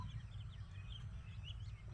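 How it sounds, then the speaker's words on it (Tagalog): Young ducklings peeping in a pen, a cluster of faint high chirps scattered over a low steady rumble of background noise. "Dito na mga kapato yung mga sisiw natin."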